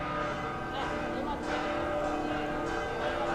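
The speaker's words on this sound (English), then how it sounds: "there is a church, as you can hear the bells" Church bells ring softly at a distance in Trapani, Sicily, a faint steady peal blended into quiet street ambience with some nearby voices.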